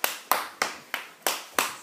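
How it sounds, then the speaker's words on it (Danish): Six sharp claps ring out at a steady, even pace, each a crisp broadband burst with a short decay, as people applaud themselves after a training challenge count; no talking over them. "du klapper dig selv"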